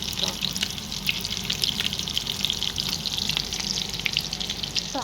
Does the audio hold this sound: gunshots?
no